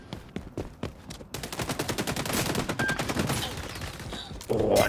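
Gunfire in the shooter XDefiant: rapid automatic bursts crack close and loud, building into a dense sustained volley that ends in a sharp final flurry.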